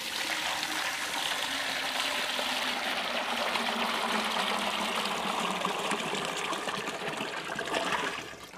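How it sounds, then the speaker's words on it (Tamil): Water pours steadily into a homemade glass fish tank, a continuous broad splashing rush that stays loud and even from start to finish, no voices over it. "தண்ணி ஊற்றலாம்."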